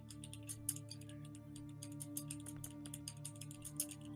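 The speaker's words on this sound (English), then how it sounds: "Some loud typing going on there." Rapid keyboard typing clatters steadily through a tabletop role-playing session, individual key clicks sharp and fairly close, running continuously over a low background hum with no talking.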